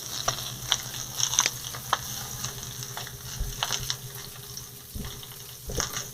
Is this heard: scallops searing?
yes